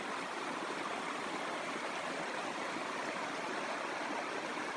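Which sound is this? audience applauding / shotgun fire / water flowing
water flowing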